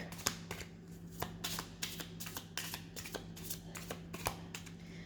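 A deck of Kipper fortune-telling cards being shuffled by hand, close up: a steady run of crisp papery riffles and slaps repeating in quick rhythm, with no talking.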